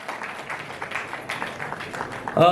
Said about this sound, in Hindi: A big round of applause, my dear friends, for जनाब अरुण बख्शी जी.